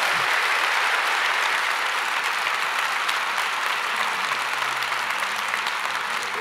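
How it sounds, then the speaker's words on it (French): An audience claps steadily and loudly at a round-table conference session, sustained dense applause with no talk over it. "On peut vous applaudir très fort."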